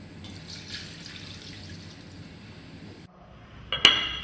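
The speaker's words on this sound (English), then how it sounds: "I'm going to just about cover this with some water." Water poured into a kamisok cooking pot over chicken pieces, a steady close pour for about three seconds, then a pause and a sharp clink of glass or metal.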